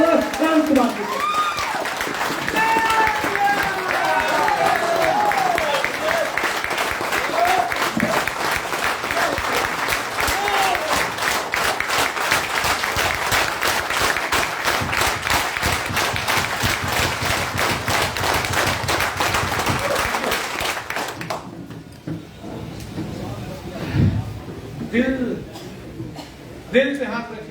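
A large audience applauds as a guest is invited onto a business seminar stage, dense sustained clapping that fills the room for about twenty seconds before tapering off into scattered claps and murmur.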